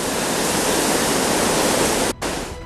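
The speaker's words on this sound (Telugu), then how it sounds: "ఉప్పొంగుతోన్న వాగులు, వరద ధాటికి తెగిపోతోన్న కట్టలు" Swollen streams surge with floodwater during torrential rain, a loud, unbroken roaring rush that cuts out briefly near the end.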